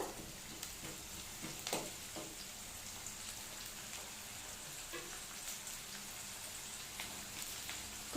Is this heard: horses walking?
no